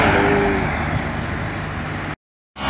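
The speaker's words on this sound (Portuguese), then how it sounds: "Carros estão indo embora." Viação Globo buses pull away in convoy, a loud close engine drone with a faint whine that holds steady, then cuts off abruptly before briefly returning.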